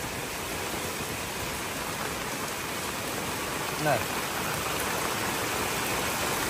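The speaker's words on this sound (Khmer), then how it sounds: "ភ្លៀងធ្លាក់មួយមេយ៉ាងធំឥឡូវនេះឃើញថាទឹកចាប់ផ្ដើមដក់បដាហើយ" Heavy rain pours down during flooding in Battambang, a dense, steady hiss that fills the whole scene; a voice briefly speaks a single word beneath it.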